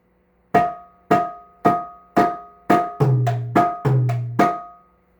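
Sharp, ringing mridangam strokes in a steady tak ge na pattern, with two deeper resonant booming strokes near the end, played close and fairly loud.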